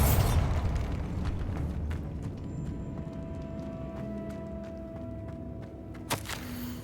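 Bombarda blasting spell explosion in Hogwarts Legacy, a loud burst right at the start decaying into rumbling debris and ringing tones, then a sharp crack near the end.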